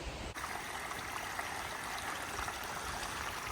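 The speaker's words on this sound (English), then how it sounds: "Trail is a stream right now" Rainwater runs down a hiking trail on the Appalachian Trail in Maine after a day of heavy rain, a steady, close, even rush of flowing water with no pauses, heard alone without any talking.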